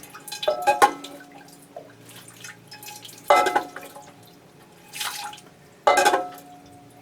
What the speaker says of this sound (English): I don't mind the water draining into the tray and sitting there for a while